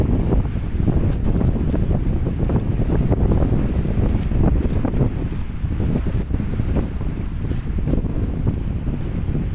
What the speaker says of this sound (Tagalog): kaya medyo malakas yung hangin.